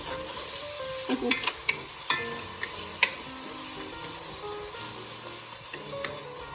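A pot being deglazed for chicken and rice sizzles steadily while a utensil scrapes and taps against it several times, close and clear, with no talking.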